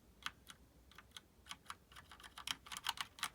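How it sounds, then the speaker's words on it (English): Typing on a white mechanical keyboard with brown switches, a quick run of fairly soft, close keystroke clicks that speed up into a dense patter near the end, with no talking. "the white keyboard brown switches, they're not as loud, but you can feel the click though"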